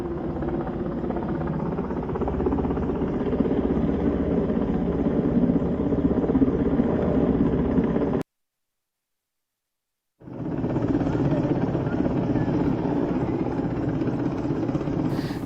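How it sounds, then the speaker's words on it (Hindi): Air Force rescue helicopters flying during a ropeway accident rescue in Deoghar, a loud continuous rotor and engine drone that cuts out briefly for a couple of seconds and then resumes just as strongly. "वायुसेना के 2 हेलीकॉप्टर फंसे लोगों को निकालने के लिए ऑपरेशन में लग गए"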